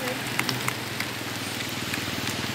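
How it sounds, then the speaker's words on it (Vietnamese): Heavy rain pours down during a major flood near a bridge in Minh Quang commune, Chiem Hoa district, Tuyen Quang, Vietnam, as a dense, steady hiss of rainfall with faint scattered drop impacts. "Cái này mưa to này chắc vẫn còn lên nữa nữa đấy."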